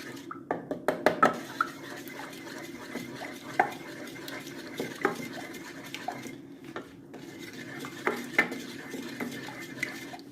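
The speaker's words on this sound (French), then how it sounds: "Je vais ajouter rapidement les jaunes d'œufs. غنزيد دغيا صفر البيض بحال هكا. Et je vais bien mélanger." Spoon stirring egg yolks into a chocolate truffle mixture in a pot, with soft scraping and several sharp clinks against the pot's side, fairly quiet and close, no talking.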